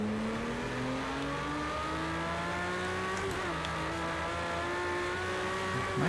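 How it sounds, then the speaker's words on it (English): A damaged race car engine in the video game Project CARS 2 drones with a steady, slightly rising pitch, close and continuous, with a brief scraping crunch near the middle and no voices. "My car does not sound good."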